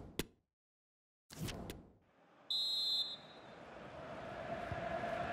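A referee's whistle during a football match, the Croatia vs Argentina FIFA World Cup 2022 semi-final in Qatar, gives a single short, shrill blast of about half a second, rising over steady crowd noise after a brief quiet spell.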